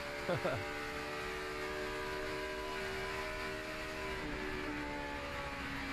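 NASCAR stock car engines roar steadily at high revs during a 2009 fall race at Charlotte, a dense sustained whine with shifting pitch, loud and continuous throughout.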